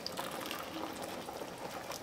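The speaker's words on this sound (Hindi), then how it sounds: "2 ग्लास पानी मैं इसमें डाल रही हूँ" Water pours steadily into a simmering potato and moong dal badi curry on a gas stove, a continuous watery rush with no talking.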